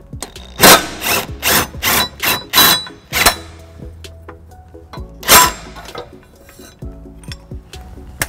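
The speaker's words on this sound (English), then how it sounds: "next I'll be using the cordless impact with a 6-inch extension and 11 millimeter" A cordless impact wrench with a 6-inch extension and an 11 mm socket takes the tow hook off a 2015 Toyota Highlander. It hammers in a quick run of loud, close bursts, then falls quiet before one last burst.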